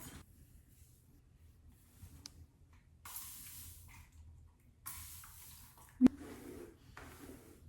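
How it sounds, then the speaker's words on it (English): A handheld hair sprayer puffs fine water mist onto hair to prepare heatless curls, a few soft hissing bursts separated by quiet gaps, faint and close, with a brief sharp knock partway through. "We're gonna use our handy dandy new hair sprayer and do some heatless curls."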